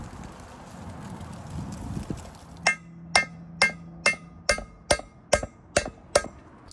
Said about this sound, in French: lorsqu'on tape avec la douille sur le croisillon, on arrive à le dessertir de part en part